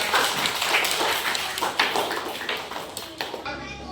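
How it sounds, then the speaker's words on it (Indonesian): A classroom of children claps for a classmate during a lesson, brief scattered hand claps and taps mixed with young voices and chatter, fading before a quieter end. "Oke, tepuk tangan pada anak"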